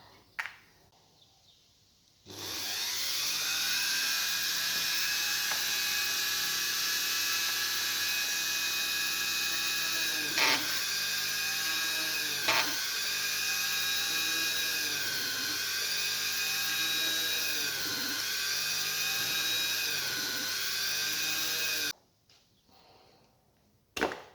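Handheld rotary tool cutting curves into a piece for a Predator model, a sustained high-pitched motor whine with small pitch dips as it bites into the material, close and loud, starting and stopping abruptly with no talk.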